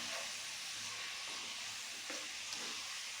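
Chicken pochero base sautéing in hot oil just before tomato sauce goes in, a steady close sizzling hiss holding evenly throughout with a small pop near the end.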